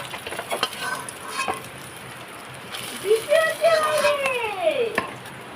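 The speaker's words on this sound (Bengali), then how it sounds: "এই মাছটা একটু শক্ত করে ভাজতে হবে" Bhola fish frying in hot oil, a steady crackling sizzle with occasional scraping and stirring, close by and moderately loud, with a brief tonal voice-like sweep near the end.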